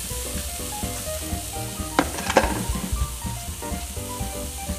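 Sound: steaks sizzling over a flame

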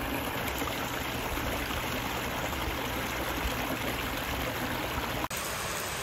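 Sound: water flowing in a renovated garden pond

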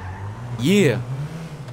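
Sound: car driving in video game Grand Theft Auto V

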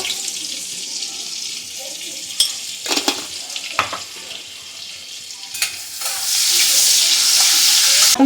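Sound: whole spices and cumin frying in butter

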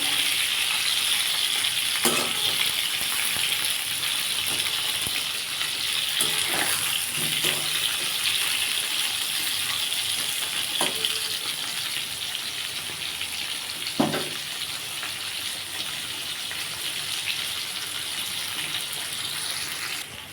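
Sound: pointed gourd frying in oil

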